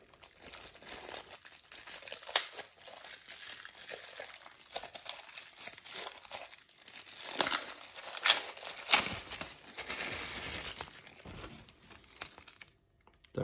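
A plastic bag holding attachment combs for a Cecotec PrecisionCare ProClipper Titanium hair clipper crinkles and crackles as it is opened, close and fairly loud in bursts, with the busiest rustling near the end.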